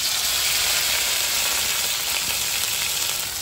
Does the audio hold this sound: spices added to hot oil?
yes